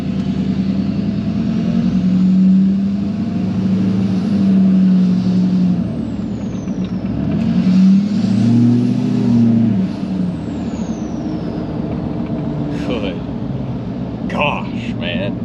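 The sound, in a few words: Duramax LBZ diesel truck driving with HSP high flow intake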